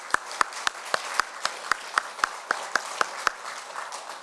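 Church congregation clapping in unison during a Sunday afternoon praise service, a steady rhythmic beat of about a dozen sharp claps that fades out near the end, with no talk.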